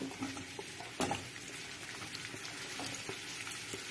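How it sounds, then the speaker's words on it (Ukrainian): Steady crackling sizzle of onion frying in oil in a preheated pan, with a light clatter near the start. "На розігріту пательню додаємо олії та висипаємо цибулю."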